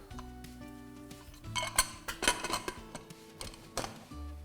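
A metal lid clinks onto a cooking pot holding chana dal, salt, turmeric and water, with a few sharp close clanks and small rattles amid quiet kitchen background.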